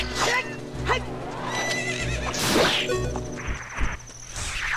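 A horse in a Zelda-style adventure game gives a loud, close whinny among game sound effects: thuds, whooshes and hoofbeats. A player talks over and between the sounds.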